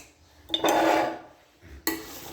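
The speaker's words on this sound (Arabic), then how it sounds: "معايا معلقه، بنزل بيها حاجه اهو" A metal spoon scoops colorful bell peppers into a pan, giving two short bursts of clattering scrapes and clinks separated by a quieter pause, close and fairly loud.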